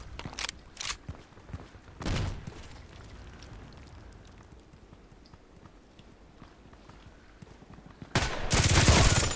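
Sniper rifle shots in a video game headshot contract, a few sharp separate cracks early on, then a louder sustained burst of gunfire at the end.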